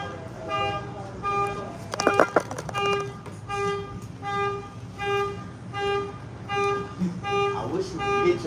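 A car alarm blares nearby in a regular pulsing pattern of repeated honking tones, steady and loud over several seconds, with voices talking underneath.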